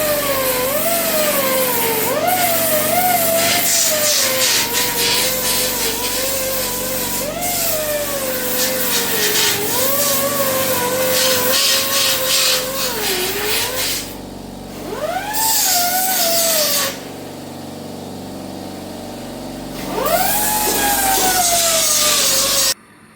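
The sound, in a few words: pencil grinder grinding down welds on car cowl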